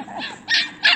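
A 53-day-old puppy gives three short, high yips in quick succession, close up and fairly loud, the last two sharper than the first.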